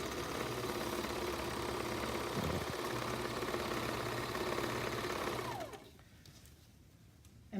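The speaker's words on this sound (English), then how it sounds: "this allows you to keep the flap down while you serge the side." A serger overlock sewing machine runs steadily and loudly, stitching the side seam of a transport bag, then stops abruptly near the end, leaving quiet handling noise.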